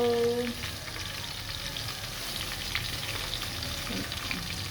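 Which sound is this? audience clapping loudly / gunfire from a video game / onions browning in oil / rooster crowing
onions browning in oil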